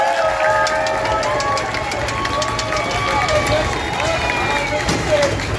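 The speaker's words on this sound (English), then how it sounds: "I get a thunderous round of applause" Crowd at an outdoor Gatorland alligator show cheering and applauding, a broad continuous roar of clapping and voices with scattered shouts and whistles, voices talking over it throughout.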